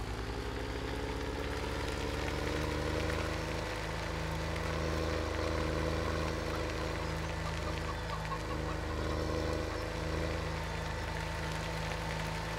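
A small tractor engine in Farming Simulator 17 hums at a steady low idle-like drone, loud and continuous throughout, with a faint knocking texture and no speech.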